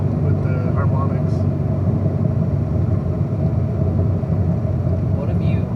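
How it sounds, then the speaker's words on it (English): An exhaust mount rattles in a vehicle running at about 4,250 RPM, heard as a loud, steady droning rumble with harmonics that holds constant throughout. "I think it's just the exhaust mounts rattling"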